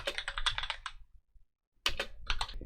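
Typing on a computer keyboard while entering a short BASIC program into an Altair 8800 emulator: a burst of rapid, close keystrokes, a pause of near silence, then another quick run of clicking keys.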